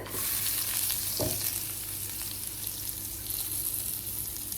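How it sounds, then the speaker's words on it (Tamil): Frozen grated coconut roasting in a pan gives a continuous bright sizzle, with one soft scrape of stirring early on and the hiss holding steady throughout. "இது வந்து கொஞ்சம் நல்லா கலர் மாறுற வரைக்கும் இதை வறுத்துக்கணும்"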